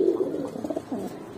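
Pigeons at a shop coo in a soft, continuous warble, with low rolling calls close by and no voices over them.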